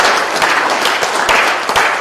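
A hall audience at a school computer studies fair applauds the computer studies class, with dense, steady clapping from many hands that fills the whole stretch without a break.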